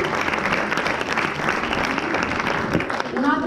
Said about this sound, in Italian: già un applauso a Chiara